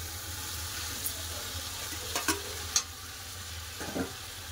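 Fried okra and potato sauté with spices in oil in a pan, giving a soft continuous sizzle over a low hum. A few sharp scrapes and clinks of stirring come at intervals, with no talk.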